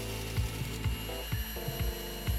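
Egg yolks beaten with sugar in a bowl for spiked eggnog, giving a steady series of rhythmic knocking, scraping strokes roughly twice a second, close and moderately loud, with no talking.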